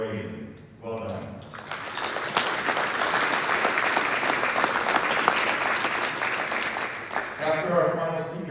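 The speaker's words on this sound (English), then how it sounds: "parents, how about a round of applause for the type of young people that you are raising?" Parents and guests applaud inducted students at a National Honor Society induction ceremony; a voice speaks briefly, then dense clapping swells and holds for several seconds before speech resumes.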